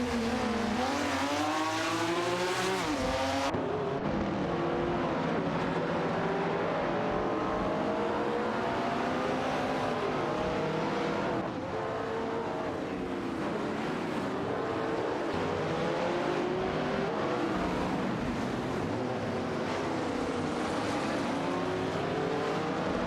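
Racing engines from a video game car race, a 1972 De Tomaso Pantera GTS against a 1967 Plymouth GTX, roar continuously with rising and falling revs and gear shifts, loud and steady throughout.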